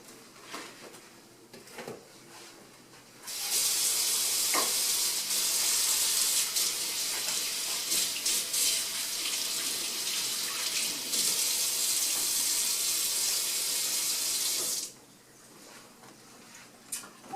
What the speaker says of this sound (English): Let me wash my hands and we'll get started.